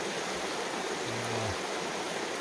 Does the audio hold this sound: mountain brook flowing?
yes